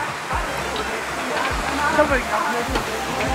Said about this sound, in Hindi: गाइस है एक और वाटरफॉल जो मैंने आपको दिखाया